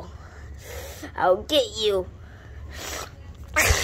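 A single sudden sneeze bursts out among short bits of a child's speech and breathing, close and fairly loud.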